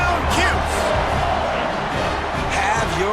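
A stadium crowd roars after a touchdown in EA Sports College Football 26, a dense, sustained wash of cheering and noise that fills the whole stretch without pause.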